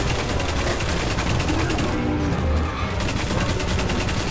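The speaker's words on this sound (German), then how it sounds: "Na, geile Granate." A grenade blast and dense rapid gunfire from the shooter game Destiny roar continuously and loudly in a crowded battle mix, bursts overlapping without pause.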